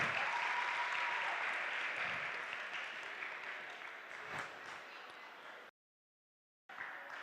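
Audience applause at a fashion week award ceremony in Albania, a steady wash of clapping that slowly fades, then cuts out briefly before resuming.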